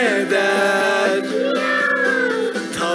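Drawn-out, musical cat meows from a Turkish children's farm-animal song, several wavering calls in a row over a backing melody.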